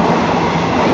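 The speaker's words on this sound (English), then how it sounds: "Guys, we're on a night train right now." Sleeper night train bound for Bangkok running steadily, a loud continuous rumble of wheels and carriage noise with faint clickety-clack and no pauses throughout.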